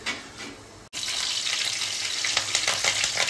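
Cumin seeds sizzle in hot oil for a chicken curry: after a short quiet gap, a steady close-up crackling hiss starts and keeps going without a break.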